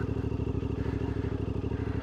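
Close, steady exhaust thrum of a CFMOTO 450MT IBEX motorcycle with a power tune, pulled down into first gear for a tight turn, its rapid even firing pulses loud and continuous.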